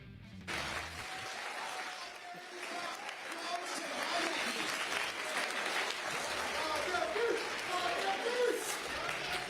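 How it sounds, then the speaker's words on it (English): A crowd of spectators applauds steadily at the Summoners War SWC 2022 America's Cup esports final, sustained clapping and cheering that swells slightly over several seconds, with a hint of voices mixed in. "Give it up for your America's Cup SWC 2022 champion, Raigeki!"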